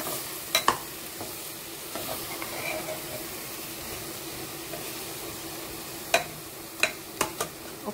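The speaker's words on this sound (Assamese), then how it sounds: "ভালদৰে এইখিনি মিক্স কৰি দিব।" Assamese khar being stirred and mixed in a pan with mustard paste, giving a soft sizzle beneath a series of sharp spoon clacks and scrapes, some isolated and some in quick bursts near the end.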